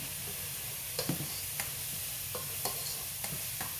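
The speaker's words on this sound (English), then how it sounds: "And you stir it to keep it from sticking, you know, to the bottom of your pan." Rice pilaf stirred in a pan over a soft sizzle, with repeated spoon scrapes and taps at irregular intervals, fairly quiet and without speech.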